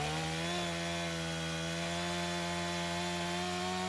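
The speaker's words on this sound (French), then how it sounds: "Le bionnage consiste ensuite à tronçonner le tronc en sections régulières." Chainsaw bucking a felled log trunk into regular sections before winter: a loud, steady engine drone with a continuous cutting whine, close and unbroken throughout.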